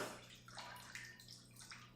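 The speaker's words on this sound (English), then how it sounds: "put your head in a bowl of water and blow some bubbles" Bubbles are blown into a bowl of water, giving soft close gurgling and bubbling that swells and fades in a few short bursts, faint and alone.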